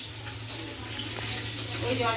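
Rice being rinsed under running water from a tap in a home kitchen, a steady wash of water with some splashing and trickling that grows slightly louder toward the end, heard close up with no one speaking.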